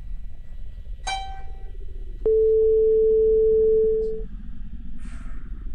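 A phone call cuts off in the video game HetaOni, marked by a short bright chime and then a steady, loud electronic tone held for about two seconds before fading.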